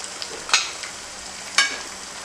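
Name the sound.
mixing sauce in a pot for red fish benachin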